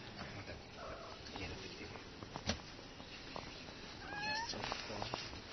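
A kitten meows a few short times near the mother cat, faint high calls rising over quiet room noise, with a brief clearer cry around the middle.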